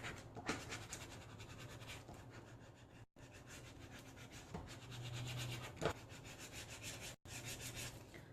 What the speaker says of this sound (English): I'm going to put it on top of my image that I want, and I'm going to get my scoring thing, my squeegee.